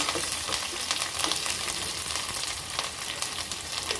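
Curry leaves and green chilli pieces crackle and sizzle steadily in hot oil with popping mustard seeds, a close, continuous frying hiss with scattered sharp pops, cooking for nylon khaman tempering.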